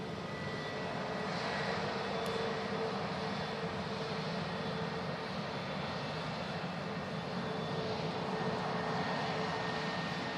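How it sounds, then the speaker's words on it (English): A Loganair ATR turboprop taxiing to the runway at Manchester Airport, its engines giving a continuous, steady drone with a faint tonal whine, heard from a distance with no voices. "We have got a Loganair ATR going out to the second runway at the moment"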